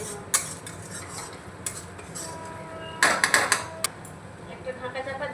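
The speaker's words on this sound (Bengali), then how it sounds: "একটা ঢাকা চাপা দিয়ে দিলাম।" A lid clatters onto a cooking pan of soybean curry with cashew and poppy seed paste over a low-to-medium gas flame, a sharp metallic clunk with a few rattling knocks amid faint kitchen clatter.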